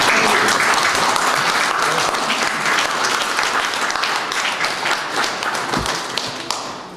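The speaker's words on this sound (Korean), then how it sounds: "열심히 살아온 선생님에게 우리 격려와 찬사의 박수 한번 부탁드리겠습니다." Sustained applause from an audience at an art exhibition opening honoring a painter, dense steady clapping filling the room for about seven seconds and slowly thinning toward the end.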